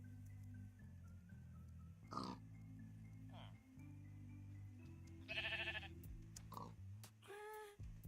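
Sheep in a farm-building video game give several loud bleats over steady looping background music, with one drawn-out bleat near the end.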